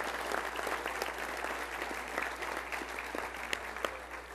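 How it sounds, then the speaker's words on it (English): Steady, dense applause from a large convention crowd of delegates, sustained and even throughout with no speech over it. "So I ask you to join with me in giving organized labor just another great round of applause"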